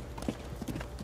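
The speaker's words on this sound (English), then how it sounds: "The horse's galloping came closer and closer in Christopher's direction until the horse neighed" A horse's hooves clop in a quick galloping rhythm, close and fairly loud, over a low steady rumble.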